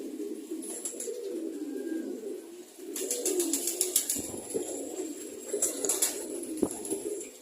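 Red chequer and blue bar cock pigeons coo in a steady, throaty, rolling murmur close by, with a few brighter rhythmic bursts of cooing layered on top partway through.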